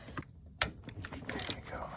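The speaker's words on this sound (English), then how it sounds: "gonna have to use a ratchet on a socket on that one" A ratchet turns a socket to loosen a bolt on a Chevy Cobalt transmission during a shift solenoid replacement, giving a short sharp metallic click amid quiet workshop handling noises.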